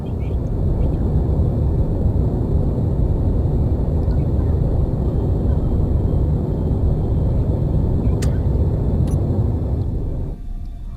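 Mining drills in the video game Space Engineers grind into ice as a loud, steady, dense rumbling drone that holds evenly and then drops away just before the end.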